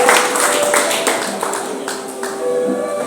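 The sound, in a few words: congregation clapping in praise at church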